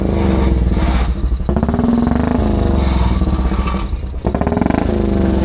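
A loud, close vintage Nuffield tractor engine chugs and clatters unevenly at a spring fair, coughing and sputtering as if struggling to catch and run smoothly.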